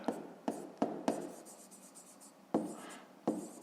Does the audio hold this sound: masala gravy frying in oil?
no